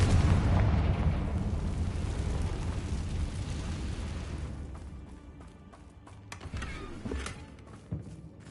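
A Confringo fire spell explodes in Hogwarts Legacy, a loud deep blast that rumbles and fades over several seconds, followed by smaller crackling pops and impacts.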